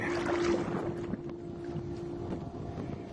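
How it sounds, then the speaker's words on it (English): A motorboat approaches a kayak on Florida's Tsala Apopka Chain of Lakes, sending wake that rocks the small craft; a steady low engine and water rumble runs throughout, mixed with wind buffeting the microphone. "I hear a boat coming up behind me, so I'm going to get some wake."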